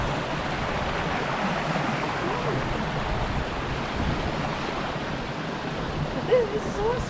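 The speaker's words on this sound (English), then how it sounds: "Like where the water's washed down and then through the rock." Continuous rushing water pours steadily, a close, full wash of noise from a stream tumbling over rocks at Sailors Falls, Victoria, with a faint voice briefly near the end.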